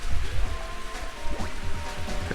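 Steady rain hiss from the Nintendo 64 game Mario Golf during a wet-weather putt, a continuous wash of drops with faint game tones layered over it.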